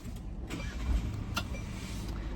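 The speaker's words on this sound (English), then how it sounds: "if I turn the engine on" A Mercedes Sprinter van's engine turns over and catches, a quiet starter crank followed by a low settling idle inside the cab, with a couple of faint clicks and no talking.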